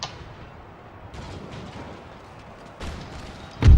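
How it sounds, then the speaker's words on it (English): Cannon fire from artillery booms across the battlefield in Empire Total War, scattered distant shots and rumbles with a louder, closer blast at the end, no speech. "Let's use this artillery on this unit here."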